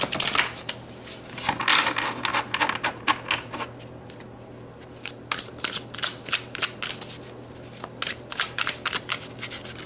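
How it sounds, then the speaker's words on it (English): Tarot cards being shuffled and pulled at close range: crisp riffling bursts and quick flicks come in rapid clusters, with a short quieter gap midway before the shuffling resumes. "let's pull a few more tarot cards."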